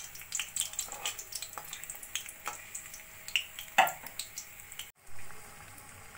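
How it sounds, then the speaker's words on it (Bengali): Chilli pakoras frying in hot oil, a close bubbling sizzle with irregular pops and splatters, swelling and fading unevenly and cut by a brief silence near the end. "একইভাবে আমি বাকি লঙ্কার পকোড়াগুলো ভেজে নেব।"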